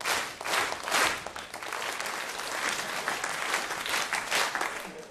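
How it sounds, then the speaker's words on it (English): School audience at a youth jazz orchestra workshop clapping back a rhythm, with many hands striking in loose unison to form accented pulses over a continuous spread of scattered claps, fairly loud and steady throughout. "Wait, so that they'll play first, and you clap back what you hear."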